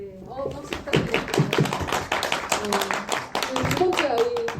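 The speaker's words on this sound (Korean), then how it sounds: "네, 박수 부탁드립니다." Audience at a film Q&A screening applauds after the host's request, clapping loud and close over steady speech, with voices talking throughout.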